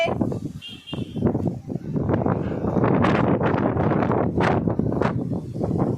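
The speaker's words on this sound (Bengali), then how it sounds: "হাওয়া হচ্ছে" A strong storm wind blows through swaying trees in loud, rushing gusts that batter the microphone, rising and falling close by.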